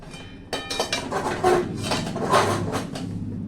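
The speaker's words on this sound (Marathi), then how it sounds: "त्याच्यामुळे हलवायला थोडस जड जात हळूहळू हलवायचं" Thick coriander bhagrala, a dry gram-flour coriander dish, is stirred slowly in a pan, giving repeated metallic scraping and clinking of a spoon against the pan in an uneven rhythm, close and fairly loud, no talk.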